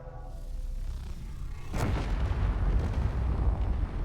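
A weapon fires at a target in the game Space Engineers, one sudden heavy blast that gives way to a loud, rumbling roar lasting several seconds.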